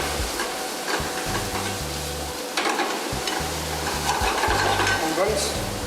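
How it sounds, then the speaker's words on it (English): Onions with ginger garlic paste sautéing in a pan on a Maldives island resort kitchen, a steady sizzle with stirring scrapes and a low mechanical hum pulsing beneath, close by. "Just saute it."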